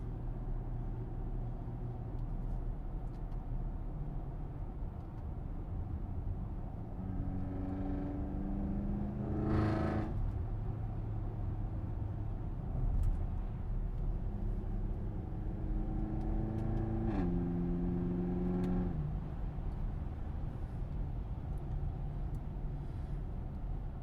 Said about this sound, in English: With each upshift and downshift, especially when the RPMs are up, just the the sounds between the gear changing and the exhaust tone.